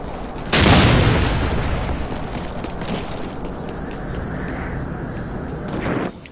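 A frag grenade in the video game Ghost Recon: Future Soldier detonates in a sudden loud boom, followed by a long rumbling decay that trails off over several seconds.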